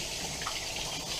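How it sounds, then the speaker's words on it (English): A kitchen sink tap runs steadily as hands are washed after handling raw eggs, a soft continuous gush of water close by with no speech. "I'm going to wash my hands in case I do have some raw"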